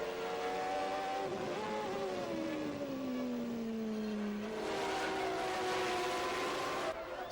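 1991 Formula One cars racing at the Portuguese Grand Prix, engines screaming at high pitch with a long falling Doppler sweep as one car passes, then more cars howling by, loud and continuous.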